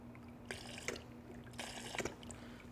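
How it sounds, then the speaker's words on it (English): Rinse-free car wash concentrate is squirted into a bucket in two short, splashy bursts about a second apart. Both are fairly quiet over a steady low hum. "So right now we're going to grab our rinse-free and pour about 2 ounces into our bucket."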